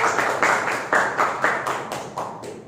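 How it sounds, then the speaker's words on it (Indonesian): A vocational high school class in an Indonesian language lesson claps hands together in a rhythmic pattern, a handful of loud, distinct group claps spaced about half a second apart, close by with no talking. "tepuk tangan dulu ya teman-teman"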